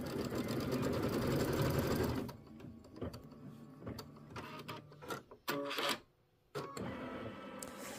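An embroidery machine stitches a trim placement line on a quilt block, whirring in quick rapid bursts that stop and restart with short pauses between them, close and clear.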